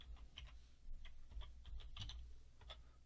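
Keys clatter on a computer keyboard in a short burst of quiet, uneven taps, close by with pauses between strokes and no talk.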